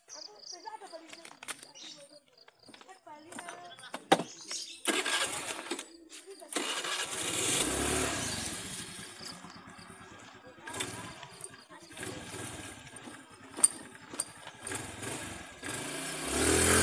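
A motorcycle, an automatic scooter, revs for a standing wheelie trick, with bursts of engine noise rising and falling. Someone talks throughout, and a chirping insect-like buzz sits in the background.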